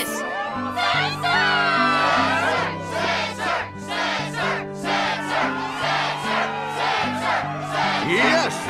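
A crowd at the Struggle tournament in Kingdom Hearts shouts and cheers in loud rhythmic chanting over bright, steady game music.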